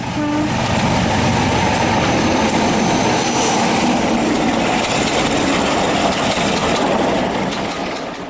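A Peak class diesel locomotive heading a Leeds train from Paignton past Dawlish, its engine a loud, steady roar with a brief horn-like tone, close and continuous with no talking.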